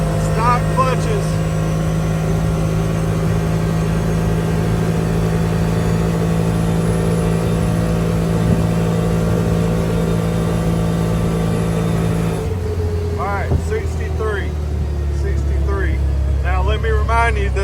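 A CFMOTO UFORCE 1000 UTV on stock clutches pulls toward top speed, its engine drone rising steadily under a rumbling cabin, with a shift in tone near the end and a person talking over it.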